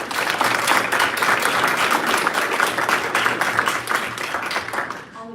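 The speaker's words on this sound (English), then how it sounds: "let's give them another round of applause" A school board meeting audience gives students a round of applause, many hands clapping steadily and loudly for about five seconds before tapering off.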